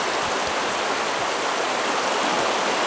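A river flowing near a trail and a washed-out bank, a loud, steady broadband rush of water that fills the whole stretch without letup and without any voices.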